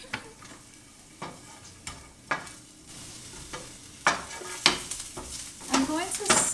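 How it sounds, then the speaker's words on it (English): Red onion and garlic sauté in a pan, a soft steady sizzle broken by repeated sharp scrapes and clacks of stirring, fairly close and moderately quiet, with no voices. "I'm going to saute this for about 3 to 5 minutes"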